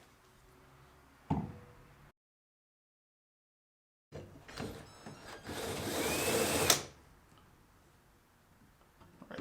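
A power drill whirs loudly in a sustained burst for a few seconds after a brief knock and a pause, drilling holes in a boat for rod holders, then winds down to quiet background.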